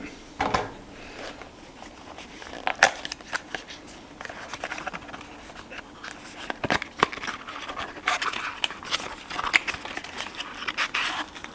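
Rustling and crinkling of packaging being handled and torn open while unboxing Tesla accessories, with scattered sharp snaps and crackles, close up and fairly quiet, growing busier toward the end.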